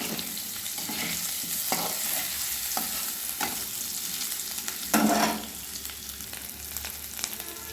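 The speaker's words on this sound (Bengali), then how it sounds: "খোসা ছাড়িয়ে আলুগুলো আমি ভেজে নিই" Boiled, peeled potatoes frying in a pan over medium heat: a steady close sizzle with occasional stirring scrapes and one louder burst of spatter partway through, no talking.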